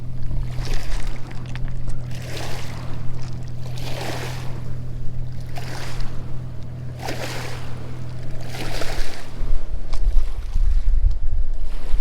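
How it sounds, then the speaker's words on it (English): Gentle waves wash against the rocky Willamette River shore at Meldrum Bar, Oregon, in a repeating soft surge every couple of seconds, over a steady low boat engine drone that swells near the end, with some wind noise. "listen to the quiet waves crash against the shore, boats cruising by"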